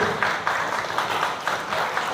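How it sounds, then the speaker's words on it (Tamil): Audience applause at a Good News International University graduation ceremony in a hotel venue: a steady patter of many hands clapping in a room, moderately loud, rising and falling slightly over a couple of seconds. "உங்களுடைய ஒவ்வொரு கைத்தட்டலும் அவர்களுக்கு இன்னும் உற்சாகப்படுத்தும்"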